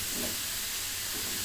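Grated carrots fry in ghee for a Bengali carrot halwa, giving a steady close sizzling hiss with soft stirring scrapes and no talk.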